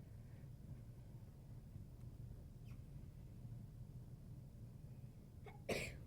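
A single sharp sneeze bursts out near the end, following a stretch of quiet low room rumble with a couple of faint ticks.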